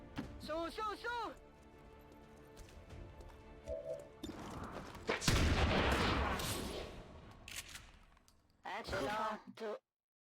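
In the XCOM 2 Long War of the Chosen mod, a shotgun goes off as one heavy, noisy blast with a rumbling tail, followed by a sharp crack. Game voice chatter comes before and after the shot.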